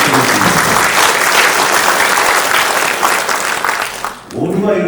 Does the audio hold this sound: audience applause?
yes